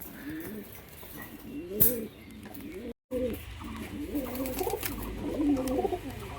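Pigeons for sale, a pair of high-flying Madras or Giribaz birds, coo repeatedly in rolling, throaty phrases close by, with a brief sharp sound and a short dropout midway.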